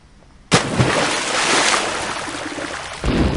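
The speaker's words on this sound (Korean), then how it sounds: "물과 만나서 폭탄이 폭발했죠." A bomb exploding on contact with water: a sudden loud blast followed by a sustained roaring, rushing wash of spray and surf, then a second surge near the end.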